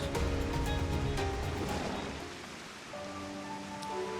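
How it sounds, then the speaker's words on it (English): Steady heavy rain pours down continuously, a dense wash of hiss with a low rumble underneath, dipping briefly before swelling again. "it's still raining buckets"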